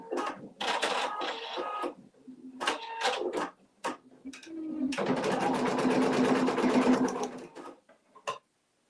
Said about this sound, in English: now it is going to do the satin border around the outside of the flower